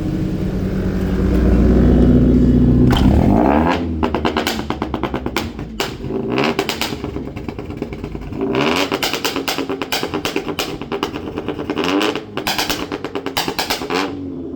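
A modified Chevrolet Optra revs loudly and repeatedly close by, with sharp exhaust bursts and pops between the revs and a long high-revving roar at the start.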